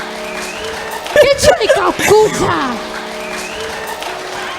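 A church congregation applauds at a prayer gathering, with a moderate spread of clapping at the start and end and a voice speaking loudly over it in the middle.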